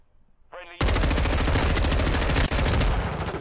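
Rapid shotgun gunfire in a Call of Duty match, a loud continuous barrage of shots that starts abruptly after a short voice and runs with one brief break.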